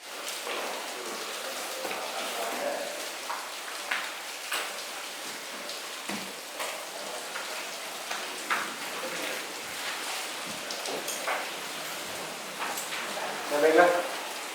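Rain falls steadily outside a police station, a soft even hiss with scattered drip taps, while people talk quietly underneath.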